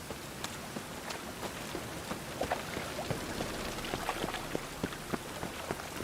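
Rain falls in The Witcher 3, a steady hiss dotted with frequent close drips and patters striking surfaces, fairly loud and without voices.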